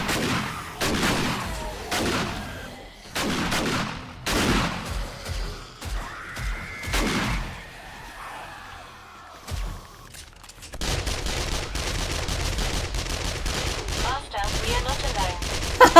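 Shotgun blasts in the zombie survival game 7 Days to Die, several sharp booming shots spaced over the first half, then a denser stretch of gunfire and game noise, with people talking throughout.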